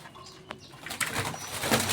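Soft, low cooing of caged doves close by, a few murmuring calls over faint rustling and a brief flutter.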